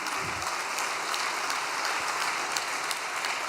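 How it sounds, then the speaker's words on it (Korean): Applause of thanks from a gathered congregation, a steady wash of many hands clapping continuously at moderate volume with no talk over it. "감사의 박수 한번 올려드리겠습니다"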